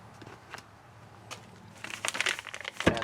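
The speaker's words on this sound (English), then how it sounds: "And they come in this plastic bag like this." Plastic packaging bag holding a new Max Pow 124099 hatch strut set for a Chevy HHR crinkles close up, faint scattered rustles at first that grow into louder, denser crackling handling near the end.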